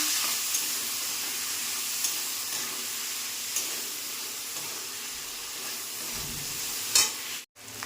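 Bitter gourd and potato fry in hot oil in a wok, giving a steady, even sizzle with a few faint scrapes and a sharp knock near the end.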